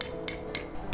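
Tent peg hammered into the ground while pitching a Dometic Hub air shelter outdoors, heard as three sharp metallic strikes spaced about a third of a second apart, close and fairly loud with no talk.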